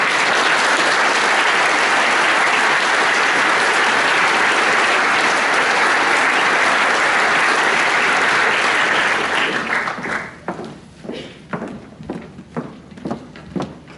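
At a Year 13 graduation ceremony, a crowd gives sustained, loud applause for a graduate, steady dense clapping that carries on for a long stretch before breaking into scattered, fading claps.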